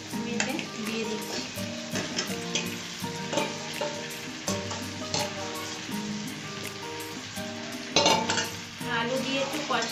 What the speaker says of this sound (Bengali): মাংসটাকে এবার খুব ভালোভাবে কষাতে হবে।